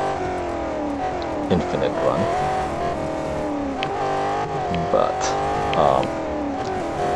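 The Jaguar XE SV Project 8 engine in the Real Racing 3 racing game holds a steady high-revving drone with brief squeals and shifts, while someone talks over it.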